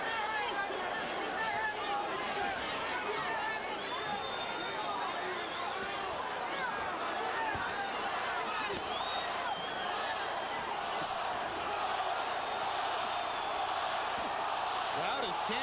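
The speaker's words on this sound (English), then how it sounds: "Crowd is chanting Roy, Roy, Roy." A boxing arena crowd at a light heavyweight title fight roars continuously, a dense loud wall of voices and cheering that could be a rhythmic chant of a fighter's name, with a commentator talking over it.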